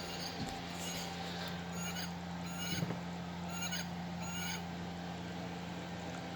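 Wild Republic Audubon large wood duck plush toy playing its recorded call, a few faint hooting, honking bird calls over a steady low electronic hum, ending with a sharp click.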